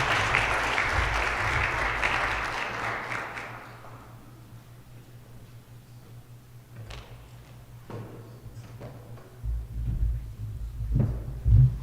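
An audience at a student association address applauds loudly for about four seconds before the clapping fades out, leaving a quiet room with a few scattered taps and knocks.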